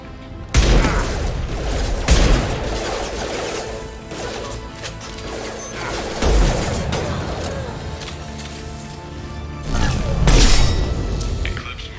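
Rifle gunfire in the video game Mass Effect 2 lands as several heavy, booming bursts spaced a few seconds apart amid continuous combat noise, with voices talking in between.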